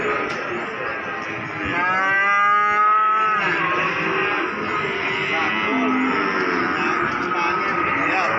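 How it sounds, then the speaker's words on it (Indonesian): At a cattle market at Pasar Wage Margorejo, a single drawn-out moo rises from the background for about a second amid chatter and steady crowd noise. "Dan sebelah sana ini ada sapi petetan."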